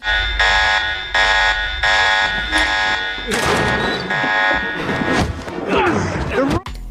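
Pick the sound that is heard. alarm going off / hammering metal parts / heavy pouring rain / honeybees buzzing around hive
alarm going off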